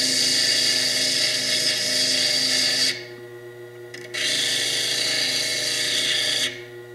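A rotary carving burr grinds chalcedony off fire agate in a close, shrill whine that stops briefly twice and then resumes, alone without voices.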